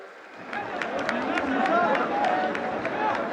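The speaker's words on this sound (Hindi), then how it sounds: "जोरदार तालियां हर तरफ से।" Loud, dense applause from a large crowd at a live event with the prime minister in Srinagar, sustained throughout with a voice speaking over it.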